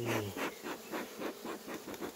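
Honeybees buzzing around beehive frames during hive inspection, a close, wavering drone that swells and fades in regular pulses, quiet and without speech.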